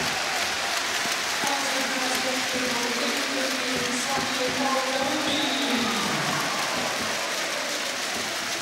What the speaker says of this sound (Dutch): Hij krijgt een daverend applaus, Rashid Ofrani.